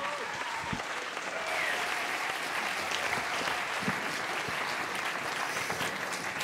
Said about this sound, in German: Macht einen netten, netten, lauten, lauten, lauten, super lauten Applaus für den großartigen Edrit Hassler!